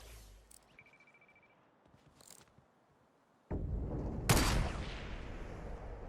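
A single sharp, loud sniper rifle shot in Fortnite rings out after quiet scuffling, followed by a long decaying echo and rumble.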